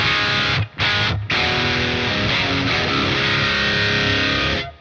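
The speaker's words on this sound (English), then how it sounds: "it starts as a very rich sort of mid-heavy rock lead" A thick, distorted electric guitar lead tone from a dual amp rig, rich midrange, sustained notes broken by two brief cuts, ringing out before stopping.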